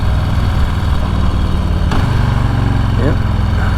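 Harley-Davidson Street Bob 114 V-twin idling close by in a steady, lumpy low rumble, with a brief change in note partway through and a person talking over it.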